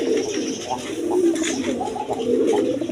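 Pigeons of mixed breeds, including Rajgolla, coo in low, soft, repeated bursts close by, several birds overlapping in a steady murmur with faint voices in the background.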